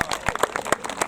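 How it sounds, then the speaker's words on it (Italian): Brief, scattered hand clapping from a small crowd at a 70th-anniversary celebration for Aurora San Nicolò in Portogruaro, a handful of sharp, irregular claps over about a second. "Un applauso."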